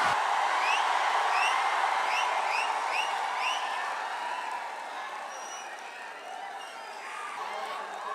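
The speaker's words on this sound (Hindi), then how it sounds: "जोरदार तालियों से स्वागत कीजिए अवध ओझा सर" Large seminar audience in Bihar applauding Avadh Ojha as he is welcomed on stage, a broad continuous crowd clap heard from a distance, gradually easing, with faint voices and cheers.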